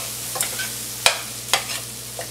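Cooked rice being stirred into sautéed masala for a palak matar paneer rice dish, with a few sharp scrapes and clatters of a spoon against the pan over a faint steady hum.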